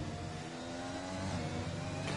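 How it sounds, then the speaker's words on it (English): A race car circles Imola in a racing video game as a steady, echoing engine whine, moderately distant and unbroken, with the engine tone holding level. "All you hear is the echo of a car going round."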